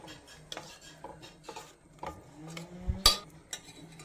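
A spoon stirs ada pradhaman with jaggery in a pot, making soft scrapes and scattered clinks against the metal, quiet and close, with one sharper knock near the end.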